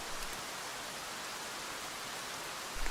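Rain falling in the Woods map of the video game Escape From Tarkov: a steady, soft, even hiss of rainfall that runs unbroken and faint throughout.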